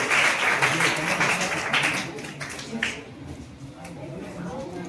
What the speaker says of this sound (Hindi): जोरदार ताली मारिए।